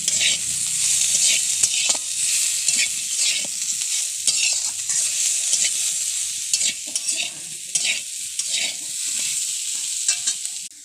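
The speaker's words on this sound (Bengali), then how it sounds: "সামান্য পরিমাণ নুন দিয়ে ভালো করে নেড়ে নিচ্ছি।" Neem leaves and eggplant are stirred and fried in a pan with a little salt, giving a steady sizzle throughout with repeated scraping strokes of the spatula. The sound is close and continuous, with no voices.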